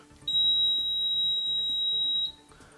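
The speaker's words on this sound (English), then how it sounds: "You'll hear a beep." A single long, loud electronic beep from a machine after calibrating its boom level, a steady high-pitched tone lasting about two seconds before cutting off.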